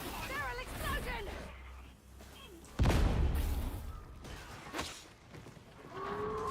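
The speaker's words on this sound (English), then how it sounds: "Barrel explosion." A barrel explodes in the video game Darktide with one sudden loud blast midway, its booming tail fading amid other game sounds, with people talking over the action.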